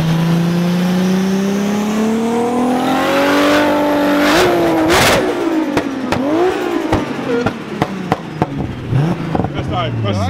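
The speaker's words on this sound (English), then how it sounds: "People doing burnouts." A car does a burnout at a large car meet, its engine revving and climbing loudly up close while tires screech, then it drops off into sharp pops and bangs as a crowd shouts and talks.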